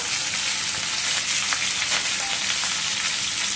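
Chopped tomato and onion fry in a pan for an Telugu-style unta pulusu, giving a steady, close, dense sizzle with faint crackles and occasional stirring scrapes throughout, no voices.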